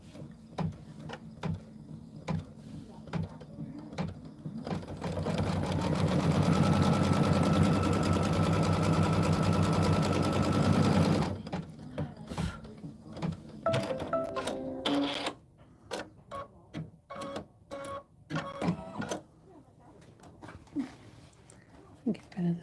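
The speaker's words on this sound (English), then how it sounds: "we're going to do the placement stitch." Embroidery sewing machine running a placement stitch for a quilt block, a steady loud mechanical whir of rapid needle strokes lasting several seconds, followed by clicks and handling noises as a person talks.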